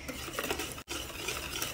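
A spoon stirs and folds cake batter after baking powder is added, making a continuous close, wet scraping and swishing sound with one brief pause. Nobody speaks.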